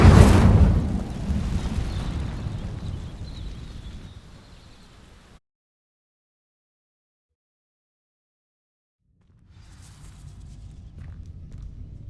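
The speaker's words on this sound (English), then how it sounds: "These dry vines are one spark away from becoming kindling. Incendio!" Incendio fire spell igniting dry vines in Hogwarts Legacy, a loud whooshing burst of flame up front that crackles and fades over about five seconds, then silence, then a low rumbling ambience returns.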